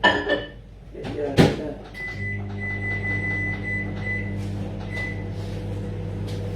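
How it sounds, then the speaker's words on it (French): A microwave oven runs to heat water, opening with door and cupboard clatter before settling into a steady low electrical hum, with a brief voice near the start. "Je mets au micro-ondes pour que l'eau chauffe."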